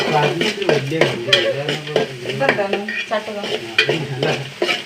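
A spatula stirs food in a pan with loud, close, continuous scraping and sizzling, the strokes coming in uneven rhythmic bursts.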